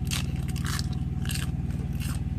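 Close bites into crisp lettuce make a few sharp, crunchy snaps, heard over a steady low engine hum.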